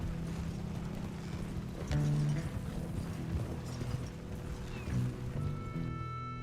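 Horse hooves clip-clopping in the video game Red Dead Redemption 2, a soft uneven trot under ambient game sound and background music.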